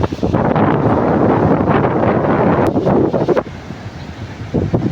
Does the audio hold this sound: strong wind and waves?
yes